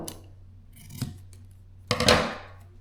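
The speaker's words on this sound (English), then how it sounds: "you can take a pair of scissors, and when you're done, you can just kind of cut it." Scissors snipping pickleball paddle overgrip tape, two crisp close cuts in a quiet room, a light snip followed about a second later by a louder, longer crunching cut.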